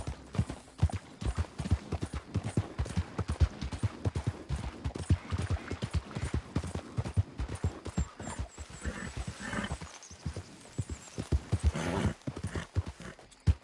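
Horse hooves clip-clop in a quick, steady rhythm while riding in Red Dead Redemption 2, close and fairly loud, with a brief whinny and a stretch of softer hoofbeats mixed with ambient game sounds.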